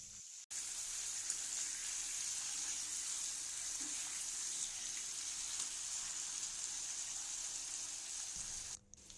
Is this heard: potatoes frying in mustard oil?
yes